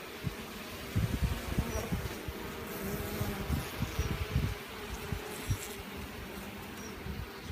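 Honeybees buzz at an open fixed-comb hive, a dense, faint, continuous hum with fluttering wingbeat swells throughout and no speech.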